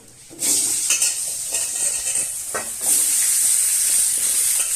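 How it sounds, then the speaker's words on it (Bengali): New potatoes sizzling in hot oil in a home kitchen pan while a fish-head curry is made, a steady loud frying hiss that bursts in suddenly and swells again near the end, with faint stirring clinks and no talk. "নামিয়ে আলুটা ভাজা করবো। আলুগুলো ভেজে নেবো।"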